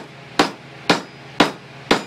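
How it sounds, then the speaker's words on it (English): A ball peen hammer strikes a steel leaf on an anvil in hand forging: four sharp, evenly spaced metallic blows, close and loud. "And you hit it with a ball peen hammer."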